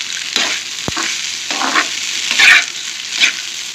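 Rice with coconut tossed and stirred in a frying pan for Telangana-style spicy fried rice: loud, crackling sizzle with repeated scraping stirs and bursts of spattering, close and continuous.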